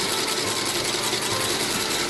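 A sewing machine runs steadily, stitching the inseam that joins the upper to the midsole of a Meindl hiking boot, a continuous close mechanical whir with no pauses and no voices.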